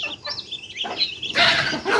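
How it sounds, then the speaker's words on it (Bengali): A flock of backyard chickens clucks close by on a rainy day, giving a few quick, uneven calls that rise into a louder burst near the end. "এখন আমার 40-50টার মতো মুরগি আছে"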